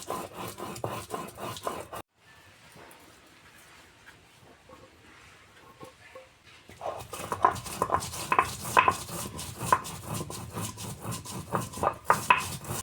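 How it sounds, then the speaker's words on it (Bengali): Chilli and cumin are ground by hand into paste with rhythmic scraping and rubbing strokes. The strokes stop for several seconds, then resume faster and louder. "উনুনে আগুনটা জ্বালিয়ে দিয়ে আমি লঙ্কা বেটে নিচ্ছি আর জিরে বেটে নেব।"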